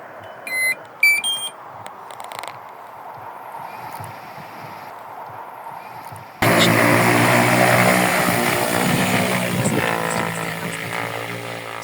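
An agricultural crop-spraying drone flies over a farm field in Ukraine's Zhytomyr region, a loud steady propeller whine and buzz that starts abruptly after a few quiet beeps and stays strong for several seconds.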